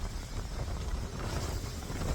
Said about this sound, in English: It sort of stopped raining now, it's just really windy.